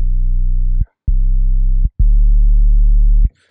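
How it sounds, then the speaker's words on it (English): A pure sine-wave synth sub-bass tone plays alone, very low, smooth and loud. There are three held notes with short gaps between them, and the last one is longer. "And the second oscillator is the sine wave."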